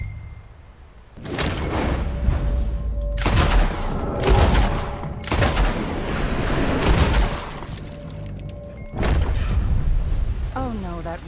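Gunfire from Red Dead Redemption 2 during target shooting practice: about six sharp, loud shots at irregular intervals, each with a booming tail, over a low game backdrop.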